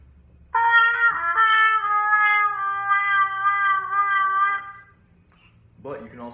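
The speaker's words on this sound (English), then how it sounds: "you can do wah effects with it" A trumpet with a Jo Ral Bubble Mute bends one sustained note in a vocal, meow-like wah, holding it for about four seconds up close. A short sound follows after a pause.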